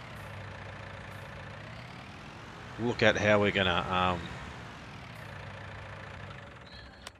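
A tractor engine idling on a farm in a farming game, a steady low drone that stays constant throughout, with someone speaking briefly over it in the middle.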